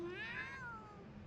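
A kitten in the video game Totono gives a single drawn-out meow that rises and then falls, fairly close and clear over a quiet background.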